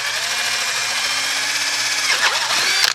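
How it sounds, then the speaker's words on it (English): A power drill with a 5/16 bit whines steadily while drilling holes in a chicken plucker build, its pitch dipping and rising near the end as it bites in. "so we're going to drill 2 holes"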